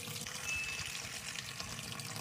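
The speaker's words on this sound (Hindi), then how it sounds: "ये पानी लेना शुरू करती है।" An automatic washing machine draws in water, a steady rushing pour with a faint trickle, close and even throughout, with no talking.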